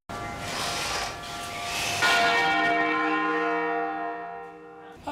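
A large church bell named São Pedro de Alcântara is struck once, and its loud ringing tone hangs and slowly fades, with clear sustained overtones and no talk.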